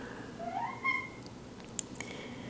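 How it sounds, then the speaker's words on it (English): Cat meowing during a yoga session indoors, one drawn-out rising meow at close range, followed by a few soft clicks and taps in a quiet room. "Of course, the cat's with us always."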